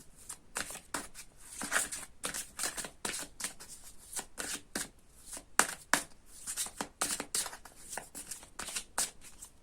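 Tarot cards being shuffled up close: a steady run of crisp, quick riffling and slapping strokes that repeat unevenly, with no voices over them.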